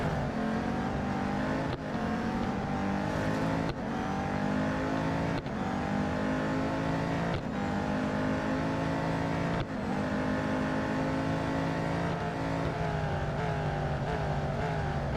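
Race car engines in the Real Racing 3 video game scream at high revs, climbing steadily and dropping sharply at each gear shift every couple of seconds in a continuous loud run.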